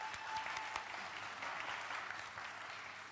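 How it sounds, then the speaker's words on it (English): Audience applause for a competitor named Peter at the 2017 Global BACARDÍ Legacy cocktail competition, a steady, dense wash of many hands clapping that holds evenly for a few seconds with no voices over it. "Big round of applause for him."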